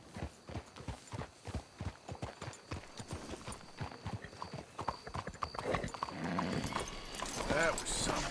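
Rapid horse hooves clip-clop in a steady rhythm in Red Dead Redemption 2, loud and close at first, then fading under a rising wash of noise with a brief whinny near the end.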